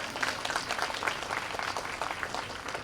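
An audience at a Women's Day event at Bright Concept High School applauds steadily, a dense, even patter of many hands clapping throughout, fairly close and without a break.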